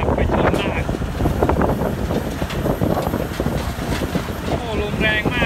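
Strong wind buffets the microphone in a steady, loud roar throughout, at an earthmoving site where a Caterpillar 336 NG excavator is ripping laterite, with someone talking over it.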